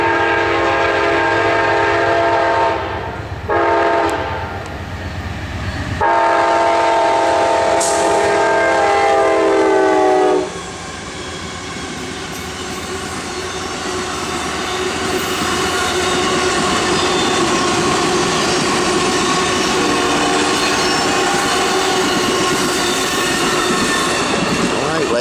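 An Amtrak Crescent passenger train hauled by P42 DC locomotives rumbles past loudly at Taylors with long horn blasts near the start, then a steady roar of rolling cars and squealing wheels continues.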